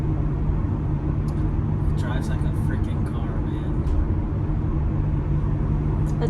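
A Sprinter van rolls along the road with a continuous low engine drone and road rumble filling the cabin, and someone talks over it throughout.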